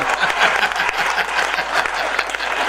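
A crowd claps at a Hindi comic poetry gathering, with lively, continuous applause and a few louder claps poking through, loud and close throughout.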